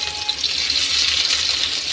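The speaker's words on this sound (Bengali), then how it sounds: "অয়েলের মধ্যে দিচ্ছি আমি গার্লিক চপ করে ছিল রসুনটা" Chopped garlic frying in hot oil, a close, steady crackling sizzle with fine popping bubbles, continuous over a couple of seconds.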